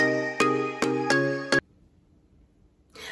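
A short channel intro jingle of bright, ringing chime-like tones, four strong struck notes in quick succession over about a second and a half, then near silence before a faint tinkle at the end.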